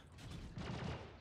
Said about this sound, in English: Turns out the turrets are still going over there.